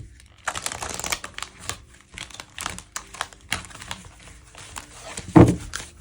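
Oracle cards being handled and shuffled close by, with quick papery riffles and taps in irregular bursts and one sharper crinkle near the end.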